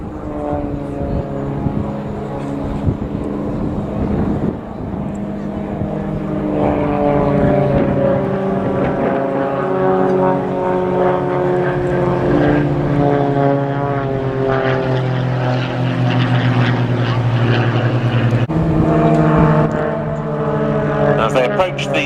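Aerobatic propeller aircraft fly a formation display at the Cosford air show, a loud droning engine note that rises and falls in pitch as they pass, with a commentator talking over it.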